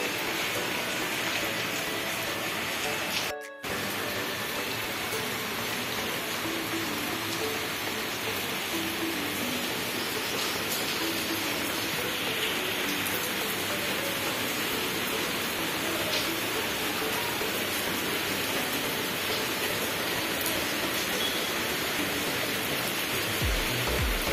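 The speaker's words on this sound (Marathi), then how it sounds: "मस्त जोरदार पाऊस सुरू आहे" Heavy rain pours down in a constant, loud, broadband roar that continues unbroken for the whole stretch, with only a brief dip in the noise early on.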